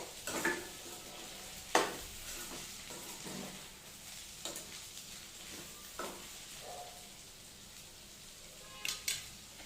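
A spoon stirs okra curry with coriander powder in a pan. Intermittent scraping strokes run over a steady low sizzle, with a few sharper clinks against the pan.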